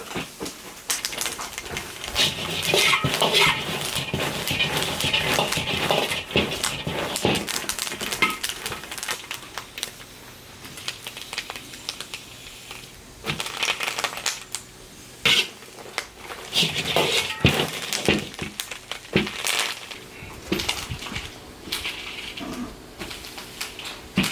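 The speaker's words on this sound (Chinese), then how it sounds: "这个辣椒就这样干炒，把它炒香。" Chili peppers dry-frying in an iron wok produce crackling, rattling scrapes and sizzles, irregular and close, with bursts of stirring against the metal and brief quieter pauses.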